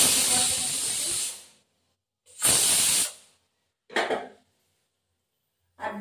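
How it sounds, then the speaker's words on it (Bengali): A pressure cooker holding goat mince lets off steam in four sharp hissing bursts separated by silent gaps, the first two long and loud, the later ones shorter, with the last cut off. "আর একটা সিটি পড়ুক, তারপর নামিয়ে দেবো।"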